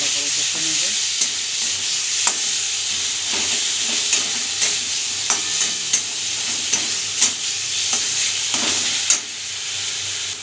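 Tomato and green chili paste sizzles loudly in a wok for a rohu fish curry, a constant frying hiss broken by regular scraping stir strokes.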